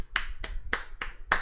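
A handful of slow, separate hand claps, five distinct crisp strikes close by, rather than the full round of applause one might expect.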